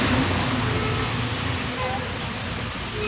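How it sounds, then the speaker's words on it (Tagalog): Steady, loud roar of passing cars and other motor vehicles on a busy road beside a basketball court, heard outdoors during a bike outing. The wash of engine and tyre noise continues without a break. "ang ingay ng mga sasakyan"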